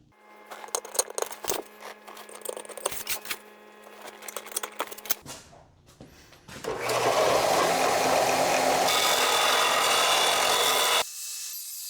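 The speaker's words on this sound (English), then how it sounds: "Take a scriber with a sharp point on. Just going to etch that in there." Sharp-pointed scriber etching radius lines into a metal plate for a tractor battery compartment cover, irregular scratchy scraping strokes, then a loud steady machine-like whir for several seconds.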